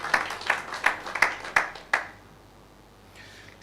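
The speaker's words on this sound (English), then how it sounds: "Please, a round of applause for Lujo Heights for put this together for us." About six sharp, separate hand claps at a Nigerian realtors' event, spaced roughly a third of a second apart and close by, then quiet fading into faint room noise.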